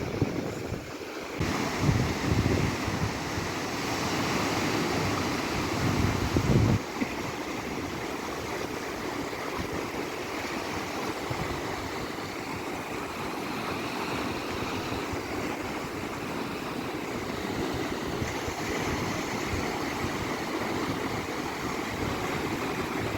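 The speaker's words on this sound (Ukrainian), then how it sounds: "зараз просто послухайте море." Black Sea waves wash onto the shore on a foggy day in Odesa, a steady broad surf roar with wind buffeting the microphone.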